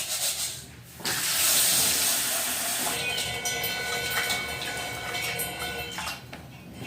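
Water running steadily from a tap in a home kitchen while something is washed under it, a loud, close, continuous rushing hiss that begins abruptly and carries on with faint clatter, no speech.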